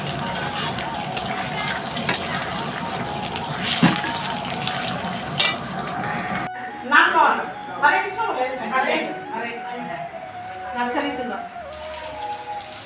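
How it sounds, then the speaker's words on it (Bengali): Cornflour-coated cauliflower frying in hot oil for a roast, a steady near sizzle that shifts partway through into bursts of spattering and stirring, with intermittent talk over it. "আর এখানে আমি ভেজে নেব"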